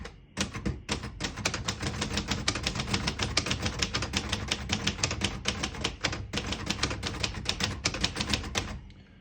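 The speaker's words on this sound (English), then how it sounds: "Nice typing machine." Fast, continuous key strikes on a 1966 Royal Aristocrat portable typewriter set to type in red, close and crisp, in an even rhythm with a few short pauses.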